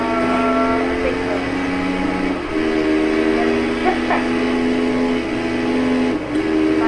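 A train in the MX vs ATV video game draws near, its steady whistle-like tones holding loud and continuous over a rumbling engine bed, briefly dipping before sounding again.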